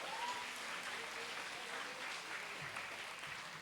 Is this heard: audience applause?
yes